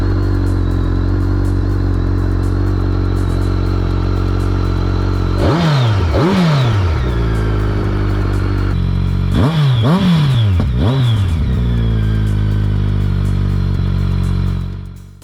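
A BMW K1300S motorcycle with a 1294 cc inline four-cylinder engine idles steadily, then two pairs of sharp throttle blips rev it up and let it fall back, each pair followed by a return to a loud, even idle.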